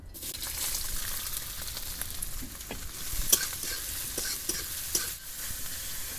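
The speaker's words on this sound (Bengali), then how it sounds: "তেলটা ভালো মতন গরম হয়ে গেছে। আর এখানে আমি কিছু সবজি নিয়েছি, পেঁয়াজ কুচি, ক্যাপসিকাম কুচি, গাজর কুচি আর রসুন কুচি।" Chopped onion, capsicum, carrot and garlic fry in hot oil, giving a steady crackling sizzle with occasional sharper pops and stirring scrapes throughout, fairly close and with no voices.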